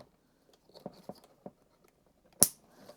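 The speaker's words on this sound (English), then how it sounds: "Line those up until they snap in." Plastic electrical connectors between a control box and a power distribution unit are fitted together, with several soft close clicks and then one sharp louder snap as they lock into place.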